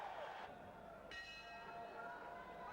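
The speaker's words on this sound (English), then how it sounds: "there's the bell to end round 3" A boxing ring bell clangs to end round 3 of a 1991 IBF bantamweight title fight, ringing out with a sustained metallic tone over steady arena crowd noise.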